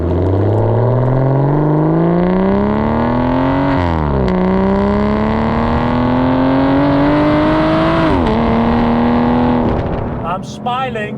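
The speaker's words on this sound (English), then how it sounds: "I've got a V12 and it's pulling like a train." An Aston Martin DBS V12 engine pulls hard and loud from close by, its pitch climbing steadily through gears with two quick shifts.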